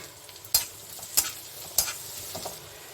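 Sliced onion and a few garlic cloves fry in hot oil in a pan, sizzling steadily under three evenly spaced scraping stirs of a spatula, with a softer fourth near the end.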